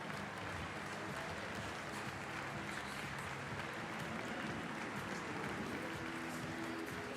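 Sustained applause from a large crowd at a basketball club evening fills the room, steady and dense from start to finish with no talking over it.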